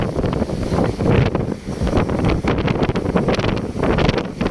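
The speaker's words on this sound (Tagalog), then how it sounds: "gaano kalakas yung hangin. Kaya nyan oh." Strong wind at sea roars and buffets the microphone continuously at close range aboard a fishing boat, with rumbling gusts and a hint of water and boat noise beneath.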